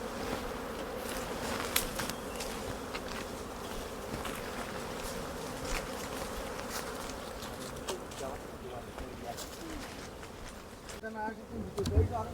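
Honey bees buzz around beehive frames at a honey farm, a dense, continuous droning hum close by, with a person talking over it throughout.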